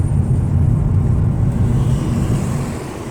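A VW Mk5 Jetta, just repaired for a steering torque sensor G269 fault, rolls along a road on a test drive, its steady low engine and road rumble filling the cabin and easing off slightly near the end.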